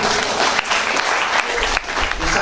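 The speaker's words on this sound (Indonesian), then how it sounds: "Tepuk tangan." Loud, dense applause from an audience at a business talk and coffee gathering, continuous clapping filling the space with brief dips, no voices over it.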